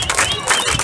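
Stadium crowd applauding a substitution at a Peruvian Liga 1 football match between Cantolao and Melgar, a brief, dense wash of clapping and cheering from the stands.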